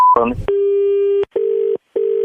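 A steady telephone tone after hanging up a call sounds loud and clear, cut into a long continuous stretch followed by two shorter beeps. It comes right after a brief burst of voices.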